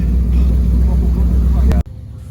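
A swamp buggy, a giant monster-truck-style vehicle with huge wheels, rumbles loudly and steadily during an Everglades ride, its heavy low engine drone filling the scene before cutting off abruptly near the end.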